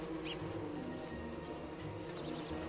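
Buzzing bees from a video game, a steady low droning hum that runs throughout at moderate level with a few faint high chirps over it, no talking.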